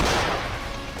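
Ukrainian soldiers fire from high ground in Bakhmut: a single loud, close gunshot blast fades into a rumbling decay.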